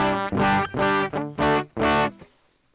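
Electric guitar played through a JOYO amp emulation pedal with the drive turned up, five distorted chords or phrases in a row, each ringing out with a short break between, then a decay into quiet.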